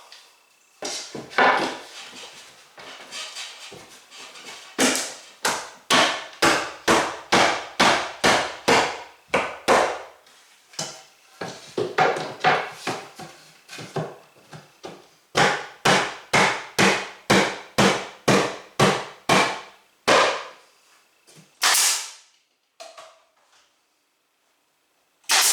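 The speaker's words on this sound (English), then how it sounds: "I'm going to finish nailing this side" Nails are hammered into wood while a cabin is built in the woods, sharp close hammer blows landing in rapid rhythmic runs of about eight to twelve strikes, separated by brief pauses.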